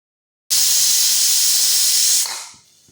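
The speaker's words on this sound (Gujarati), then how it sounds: "હવે આપણે કુકરનું ઢાંકણ બંધ કરી અને આપણે અહીંયા 3 વિસલ થવા દઈશું" Pressure cooker on a stovetop letting off one long, loud whistle of steam while wheat khichdi cooks on medium-low flame, a steady piercing hiss lasting about two seconds before fading.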